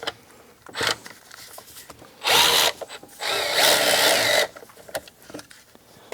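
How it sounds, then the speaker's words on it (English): Power tool or ratchet work on bracket bolts of a 2009 Audi A4 2.0T engine, heard as a brief whir followed by two longer, loud buzzing runs, close by with no talking. "got our little ratchet here. Pull that bracket off."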